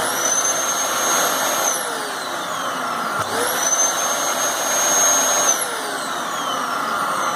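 Dyson DC33 upright vacuum cleaner, just fitted with a replacement power switch, running steadily with a loud, constant motor whine and airflow roar, plus a few sweeping pitch shifts as it moves.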